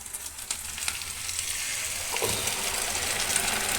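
Chicken pieces go into a hot pan of sizzling chilli chicken batter made with chilli sauce, soy sauce and cornflour, giving a steady, close frying hiss that grows slightly louder as it is stirred, with no talking.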